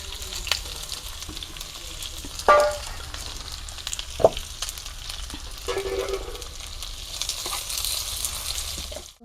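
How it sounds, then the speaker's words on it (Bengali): Onions fry in a pan in a village kitchen with a steady crackling sizzle, interrupted by a few sharp clinks and scrapes of stirring. "পেঁয়াজটাও আমি ভেজে নেবো।"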